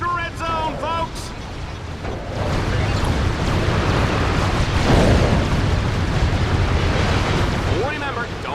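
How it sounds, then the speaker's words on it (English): Explosions and gunfire in the Dread Zone arena of the video game Ratchet: Deadlocked, a dense, continuous roar of blasts and bursts, with a voice heard at the start and end. "Oh, the explosions, the gunfire, the carnage. This is Dread Zone, folks!"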